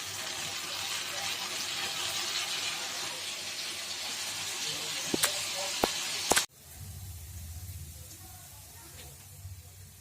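Spice paste with tomato fries over raised heat in a wok for a spicy catfish curry, giving a loud, steady broadband sizzle that runs for several seconds, broken by a few sharp clicks before dropping to a quieter low rumble.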